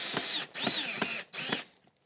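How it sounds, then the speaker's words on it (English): Power drill driving screws into wood, three loud whirring bursts close by with a brief rising whine in each and short pauses between, the last trailing off into quiet clicks. "We drill in to attach it"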